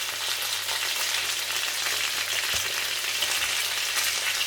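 Garlic sizzles steadily in a pan just before honey goes in, a bright continuous crackling hiss with a faint tap partway through, close and without talk.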